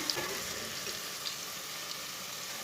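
Garlic and onion frying over medium heat for a masala mutton curry, a steady, even hiss of sizzling oil with a few faint pops, close by and unbroken.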